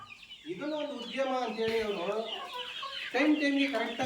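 Native free-range chickens cluck and chatter nearby in a steady, busy stream of calls, with a louder burst near the end.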